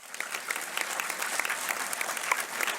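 An audience at a high school scholarship night in a hall breaks into steady, sustained applause, with many hands clapping at once and a faint murmur of voices underneath.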